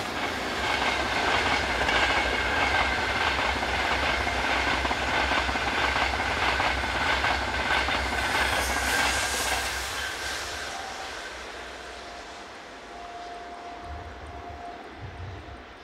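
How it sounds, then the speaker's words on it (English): A pilgrimage passenger train from Italy to Lourdes, headed by locomotive 22323, rumbles past with a steady roar and rhythmic clatter of wheels on track, then fades away into quieter background noise. "We were lucky enough to just catch this pilgrimage train from Italy to Lourdes"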